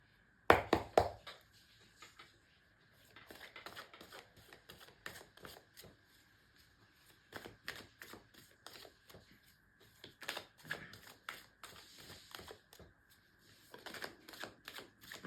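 Tarot cards are shuffled by hand in quiet, soft bursts of riffling and flicking clicks, separated by brief pauses and close to the listener, with no voices.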